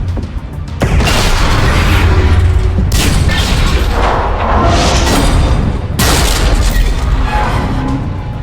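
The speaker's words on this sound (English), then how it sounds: "All ships open fire." Spaceship fleet weapons fire and heavy booming explosions in the Mass Effect 3 video game, a loud continuous barrage of blasts with several strong impacts rolling on throughout.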